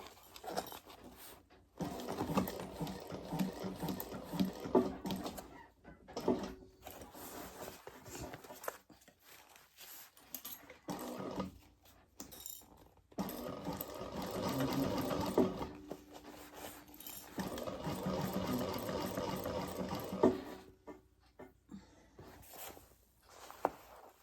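Sewing machine stitching around the corners of a laptop bag gusset, running in several bursts of steady whirring stitching separated by short pauses, close and clear with no talk.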